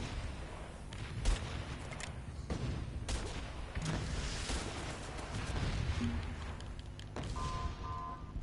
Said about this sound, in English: That mortar.